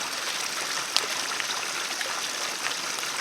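Gentle, steady rush of water flowing in a stream, a constant hiss-like burble close by with one small splash.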